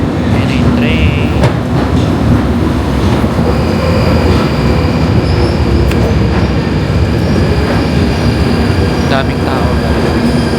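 London Underground train pulling into a busy station, a loud steady rumble with rail clatter and brief squeals throughout, while people talk nearby over the noise.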